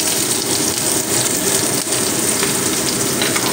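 Chopped onion and green chilies hitting hot oil with black cumin seeds, a loud, dense, steady sizzle with crackling texture, continuous and close with no talking.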